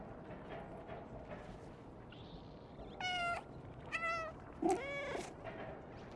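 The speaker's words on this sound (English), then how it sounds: "They meow excessively" Cat meows from the video game Stray, three or four distinct rising and falling calls standing out clearly over a steady, low background of game ambience.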